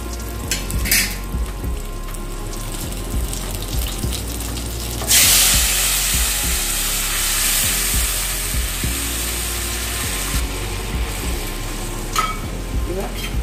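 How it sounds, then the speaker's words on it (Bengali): Mustard paste hits hot oil in a pan for a Bengali bata fish jhaal, and a quiet background crackle bursts into a loud, hissing sizzle that holds steady before easing slightly. "এবার আমি সর্ষেটা দিয়ে দিচ্ছি।"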